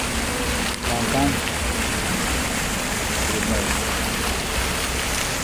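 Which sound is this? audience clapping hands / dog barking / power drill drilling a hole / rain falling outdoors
rain falling outdoors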